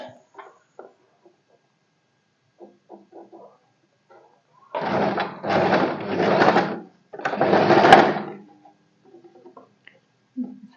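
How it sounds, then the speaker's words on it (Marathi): Sewing machine stitching a boat neck A-line kurti, running in four close bursts of steady whirring with short pauses between, loud and near, with faint handling clicks before and after. "मी इथे अशी आतमध्ये घालून एक दाबाच्या अंतरावरून शिलाई मारून घेणार आहे"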